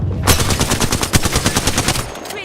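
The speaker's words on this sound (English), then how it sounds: "Got some shooting." A rapid burst of automatic gunfire from the video game Apex Legends, dozens of evenly spaced loud shots fired in quick succession before stopping, with no talking.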